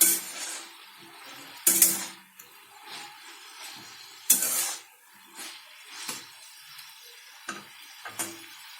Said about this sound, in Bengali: সজনা ডাঁটা দিয়ে আমি ভালো করে নেড়ে নিচ্ছি।